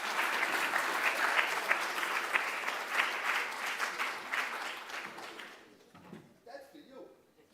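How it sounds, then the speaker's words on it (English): An audience at a school spring sports awards ceremony claps for an award winner, dense applause that fades after about five seconds, followed by scattered voices. "Clap for James."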